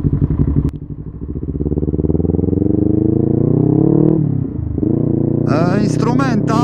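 A 2018 Kawasaki Ninja 400 engine drones close and loud as the bike rides, its pitch climbing steadily, dipping briefly and then rising again, with a rider's voice talking over it near the end.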